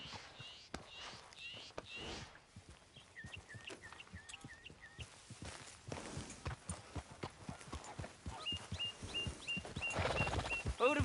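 Horse hooves clip-clop at a walking pace in the game Red Dead Redemption 2, the steps fairly faint, joined by scattered bird calls and quiet voices.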